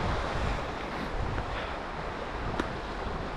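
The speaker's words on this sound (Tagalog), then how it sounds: "although malakas yung hangin," Strong wind blows outdoors on a solo backpacking day, a dense, steady roar buffeting the microphone for a few seconds with no voices.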